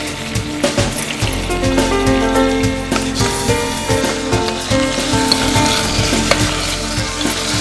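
Chicken frying with masala and curry leaves in a pan, a steady close sizzle with clinks and scraping of stirring throughout, no talk.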